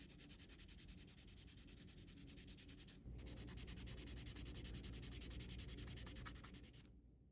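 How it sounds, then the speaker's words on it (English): 1000-grit sandpaper rubbed across a plastic model car body for a Revell Pontiac Fiero GT kit, giving steady, close back-and-forth scratchy strokes in a quick even rhythm, with a brief pause near the middle and no talking. "That too is sanded smooth using 1000 grit sandpaper."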